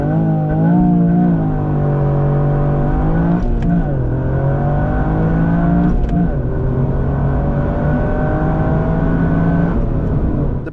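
A Toyota GR Yaris launching from a standstill, its engine revving hard toward the red line, with rising harmonic sweeps broken by quick gear shifts near four, six and ten seconds; loud, close and continuous throughout with no voices.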